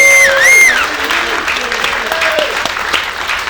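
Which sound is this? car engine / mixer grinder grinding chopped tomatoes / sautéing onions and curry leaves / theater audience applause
theater audience applause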